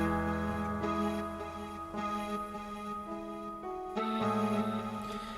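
A Yamaha keyboard patch layered with piano plays sustained, chord-like tones with delay, reverb and high-end EQ boost, the notes changing every second or so in a smooth, ringing texture with no voices.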